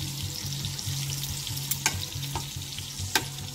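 Sausage frying in an enamel cast iron skillet, a steady close sizzle and crackle with a few sharp pops and utensil clicks, no voices.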